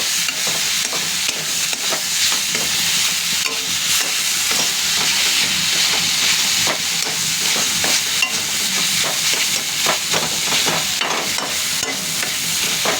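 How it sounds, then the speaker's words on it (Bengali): Vegetables are stirred and fried in a pan, giving a continuous close sizzle broken by repeated scraping stir strokes, with no talking. "সবগুলো একবারে তোলার পরে হালকা হালকা করে নেড়ে নিতে হবে।"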